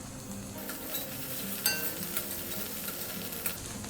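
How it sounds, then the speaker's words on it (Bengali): Dried chilli with cumin and coriander powder sautéing in a pan for a fig curry, a soft, steady sizzle with occasional scrapes and light clinks of a utensil against the pan. "শুকনো লঙ্কা জিরা পাউডার ধনে পাউডার একটু কষে নেব"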